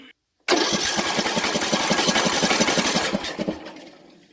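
A DYT4000 riding lawn mower's small engine cranks with a fast rhythmic chugging, catches and runs loudly for a few seconds, then fades as the throttle drops, close by with no talking.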